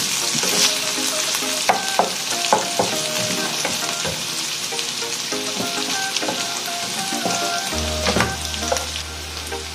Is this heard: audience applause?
no